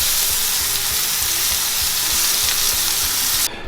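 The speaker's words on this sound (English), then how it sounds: "And now I will add the garlic." Garlic sizzles hard in a hot frying pan, a steady close crackle of frying that holds at an even level throughout and then cuts off abruptly near the end.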